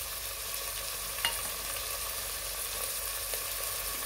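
Small onions frying in a pan for a paneer veg biryani, a steady soft hiss of sizzling oil with an occasional faint clink, no talking.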